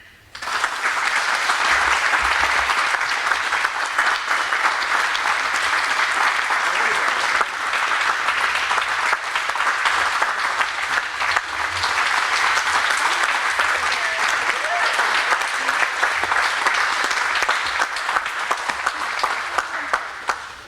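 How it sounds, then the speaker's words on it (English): A conference dinner audience gives a sustained round of applause, loud, dense clapping from a full room that holds steady for about twenty seconds with little variation and no talk over it. "So that round of applause is for everybody in this room."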